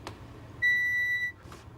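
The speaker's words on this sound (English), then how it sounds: "He waves it over Oscar, it beeps on the belt buckle" A handheld metal detector wand gives a single sustained electronic beep lasting about two-thirds of a second as it passes over a belt buckle, loud and close against a quiet background.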